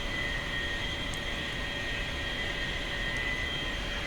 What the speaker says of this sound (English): Now we're going to back taxi on the runway to get down to where we can turn around